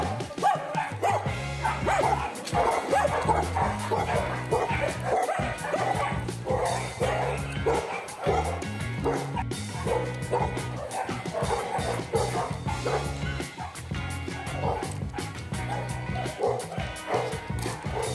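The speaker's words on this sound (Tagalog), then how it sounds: "dito maraming aso" A pack of dogs barks at night, with many voices overlapping. Steady bow-wows mix with yips and occasional whimpers, loud and continuous throughout.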